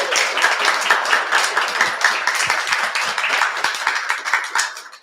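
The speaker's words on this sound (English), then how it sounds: "I want to give you a huge round of applause" A group gives a warm round of applause during a fashion talent spotlight. Brisk, closely packed clapping fills the clip and thins out toward the end.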